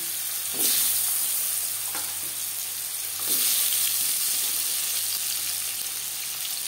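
Pumpkin fries in a pan of hot oil with dried red chili and five-spice seeds for a vegetarian dish, giving a steady close sizzle broken by a few sharp stirring scrapes, with no voices.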